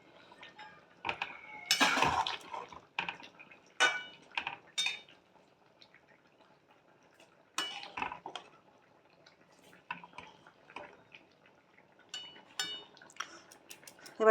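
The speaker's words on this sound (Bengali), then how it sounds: "এইভাবে নাড়িয়ে দেবো সমস্ত, যাতে মশলার সঙ্গে মিশে যায়" A spoon scrapes and clinks against a pan while catla fish curry is stirred with spices, giving irregular bursts of metallic scraping and clatter separated by quiet pauses, close and fairly soft.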